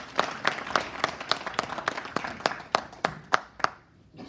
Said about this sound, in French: On applaudit le serviteur de Dieu.